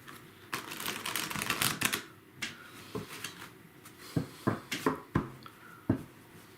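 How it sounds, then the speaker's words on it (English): Tarot cards being riffled and shuffled, a quick flurry of crisp flutters and taps followed by sparse, sharp clicks and snaps at close range, with no talking. "every time I riffle the cards, I just take myself a deep breath"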